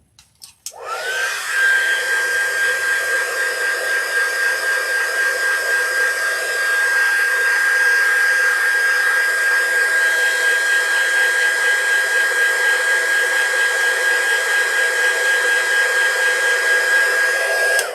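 Close by, a hair dryer whirs loudly and steadily as it dries paint on a scarecrow craft, with a sustained high whine and no talking.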